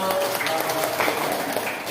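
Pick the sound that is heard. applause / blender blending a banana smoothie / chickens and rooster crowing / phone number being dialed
applause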